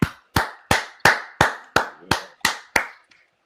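Podcast hosts clap to welcome a guest. About nine sharp, evenly spaced claps land close to the mic in a steady rhythm and then stop. No one speaks over them.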